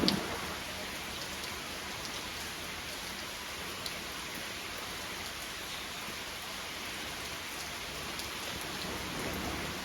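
Rain falls steadily at a cattle farm in East Java, a dense, even hiss of drops on surfaces lasting the whole ten seconds with no voices over it.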